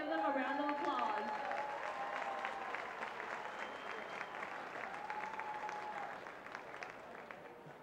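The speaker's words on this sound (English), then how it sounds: "So let's give them a round of applause." Sustained crowd applause fills a high school sports event between Edmonds Woodway and Lynnwood, dense and steady for the whole stretch, with some voices mixed into the clapping and a gradual easing near the end.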